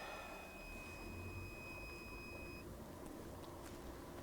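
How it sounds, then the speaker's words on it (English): A faint steady electronic tone from a truck's warning buzzer whines over a rumbling HGV engine drone, then cuts off partway through. "Warning buzzers all over the place"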